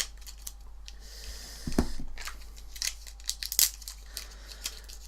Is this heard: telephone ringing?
no